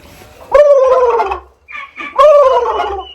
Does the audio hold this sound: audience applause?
no